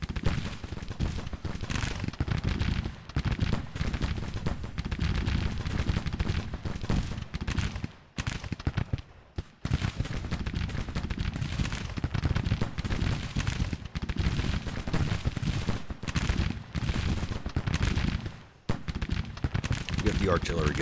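Dense, continuous gunfire and volleys from the Civil War strategy game GTCW Confederate, loud and sustained with brief lulls, under background talk.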